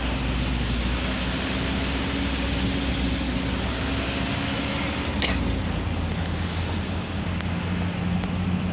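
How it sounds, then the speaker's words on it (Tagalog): Loud, steady engine rumble from a line of trucks queued in road traffic, with a constant low drone and broadband roar. A brief hiss of air near the middle cuts through the din. "Pila ng truck."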